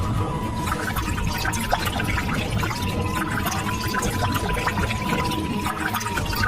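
Cartoon water effect of liquid pouring and trickling steadily onto the ground, a continuous splashing wash with small drips, moderately loud with no talking over it.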